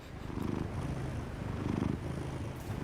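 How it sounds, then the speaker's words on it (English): A palico cat in Monster Hunter Wilds purrs steadily and close, a low rumbling drone that swells in soft rhythmic waves, with no voices over it. "the cat vibes coming in are helping the purring palico"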